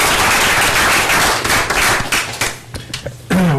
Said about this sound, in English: I'd ask you all to join me in some applause for these two